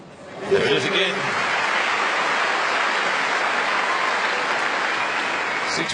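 A tennis crowd at an Australian Open quarterfinal applauding Venus Williams, a sustained, even roar of clapping that swells in quickly and holds steady, with a commentator's voice briefly audible at the start.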